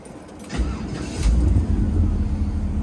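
A 1969 Oldsmobile Cutlass cranks briefly and then catches, with a close, rumbling V8-style idle settling in and growing louder and steady. No one talks over it.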